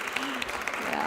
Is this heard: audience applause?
yes